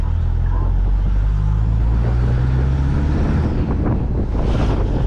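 A turbocharged pickup truck pulls hard in second gear, a loud, low engine rumble climbing steadily under heavy wind buffeting from inside the moving cab.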